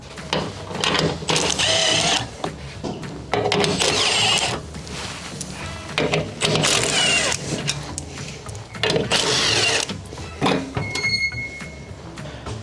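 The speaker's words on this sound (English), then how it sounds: "It has 4 14mm bolts that need to be removed." Four 14mm bolts being removed from the tailgate bracket of a Toyota Prado, with repeated bursts of a whirring power tool separated by short pauses and lighter mechanical clicks and rattles.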